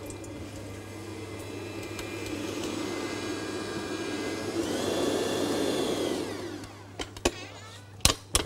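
An electric mixer whirs through brownie batter, a steady motor drone that swells in pitch and strength midway before cutting off, followed by a few sharp knocks and clicks, quiet and close.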